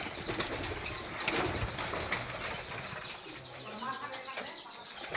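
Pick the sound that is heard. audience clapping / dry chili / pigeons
pigeons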